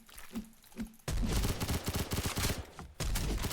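Rapid bursts of gunfire from the top-down shooter game Suroi crackle close and loud, coming in quick dense volleys separated by a brief pause, with no talking over them.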